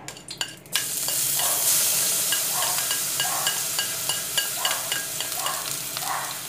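Half a chopped onion frying in olive oil, a loud steady sizzle after a few opening clatters, with light scraping stirs recurring every second or so, close up and without speech.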